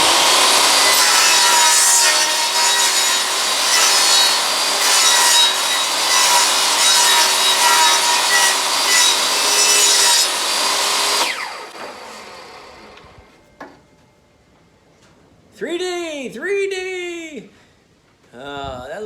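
Wood being sawn for dinette seating in a 1960 Shasta vintage camper, a loud, continuous rasping cut that runs about eleven seconds and then stops, followed by someone speaking.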